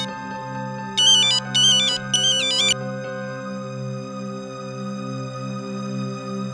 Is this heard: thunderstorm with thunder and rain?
no